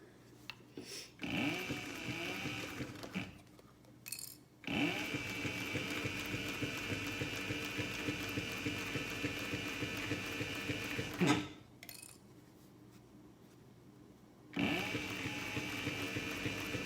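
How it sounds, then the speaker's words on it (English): A sewing machine stitches a cosmetic bag, running in steady mechanical bursts of rapid needle chatter with short pauses between seams, close and clear with no talk. "I did not backstitch at the beginning, but I did backstitch at the end"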